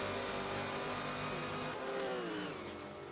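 Ford and Porsche race cars lapping Monza in a racing video game, with a loud, sustained high engine whine and shifting harmonic drones as the cars run close together. No voices are heard.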